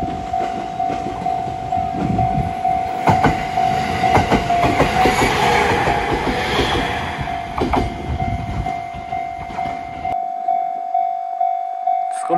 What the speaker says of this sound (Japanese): お、貨物列車が来ました。